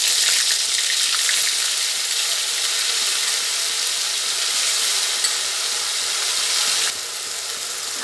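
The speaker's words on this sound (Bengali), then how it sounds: "আদা কাঁচা লঙ্কা বাটাটা একটু সুন্দর করে কষিয়ে নেব, যাতে কাঁচা গন্ধটা না থাকে।" Ginger and green chili paste fries in hot oil in a pan, a steady dense sizzle holding evenly throughout and easing slightly near the end, with no talking.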